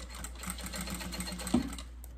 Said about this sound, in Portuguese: Agora, a gente vai costurar 1 centímetro, uma margem de costura bem larguinha